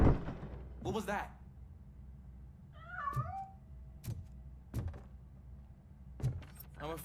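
A cat meows in Robocop: Rogue City, a wavering mid-pitched cry around the middle, set among sharp clicks and thuds over a low ambient hum, with a voice speaking nearby.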